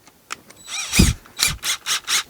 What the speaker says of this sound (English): I like to get up here with just the regular drill